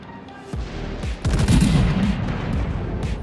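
Tier 7 warship guns in World of Warships firing high-explosive shells, a couple of heavy booming salvos with rumbling tails, loud and close, no talk.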